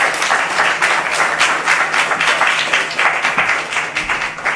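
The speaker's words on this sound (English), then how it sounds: "Could you give them a round of applause for me?" An audience at a business investment summit awards ceremony applauds steadily, a dense sustained clapping from many hands that holds evenly throughout with no voices rising above it.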